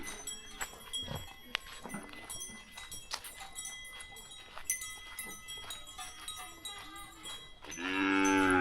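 A water buffalo in a rural Thai village gives a loud, close, drawn-out moo at the end, after a stretch of clattering bells and outdoor village sounds with some voices.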